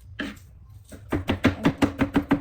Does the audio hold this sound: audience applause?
no